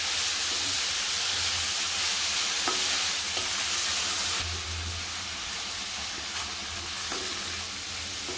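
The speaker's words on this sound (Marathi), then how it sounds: "कांदा घालते। चांगला परतून घेते कांदा।" Chopped onion stir-fried in a pan with a steady broadband sizzle and hiss, a few scraping stirs breaking through, loud and close throughout, easing slightly partway along with no voices.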